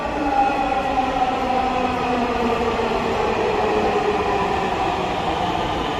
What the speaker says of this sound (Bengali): ট্রেন যেটি এসেছে সেটি মতিঝিলের দিকে যাবে